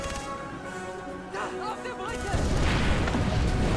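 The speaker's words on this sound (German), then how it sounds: "So, jetzt explodiert natürlich hier schon viel." Explosions and gunfire in the video game Far Cry 3, booming blasts and rumbling fire building to a loud, continuous roar, with someone talking over the start.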